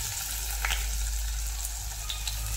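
Ginger garlic paste with bay leaf fries in a pan over a medium flame for paneer biryani, a close, continuous sizzle with a couple of light crackles.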